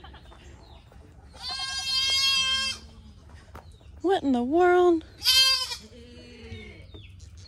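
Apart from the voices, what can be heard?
goat bleating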